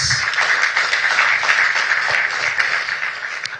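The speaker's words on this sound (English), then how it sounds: "Let's give a round of applause." Applause from a large audience at a Tony Elumelu Foundation entrepreneur empowerment event, a sustained even patter of clapping heard moderately close.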